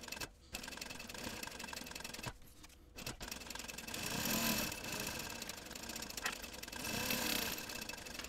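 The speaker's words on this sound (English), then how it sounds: "we're going to baste it using a 1/8 inch seam allowance" A sewing machine basting clear vinyl to lining with a narrow 1/8 inch seam, running steadily in a continuous mechanical whir with short pauses, fairly quiet and close.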